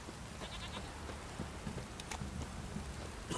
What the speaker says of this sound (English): This downpour's a bastard, it is. It's blowing, pouring again.